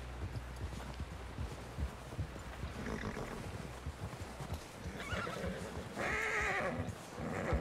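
A horse in the Western video game Red Dead Redemption 2 whinnies several times amid shuffling hooves and ambient noise, the neighs growing louder and more shrill toward the end.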